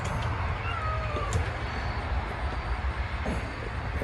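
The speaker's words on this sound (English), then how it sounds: "Cat trying to break in and hanging on the screen" A cat hangs on a window screen trying to get in, giving a few faint meows over a steady, loud background rumble.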